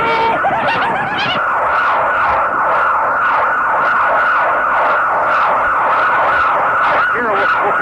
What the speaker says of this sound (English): I want every siren in that building turned on right now.